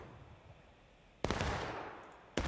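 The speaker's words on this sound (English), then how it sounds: "you're just going to get slaughtered by Confederate gunfire" Sharp bursts of gunfire in a Civil War battle video game, two loud volleys cutting in after a quiet stretch of low ambient rumble, the first trailing off in a long decaying crackle.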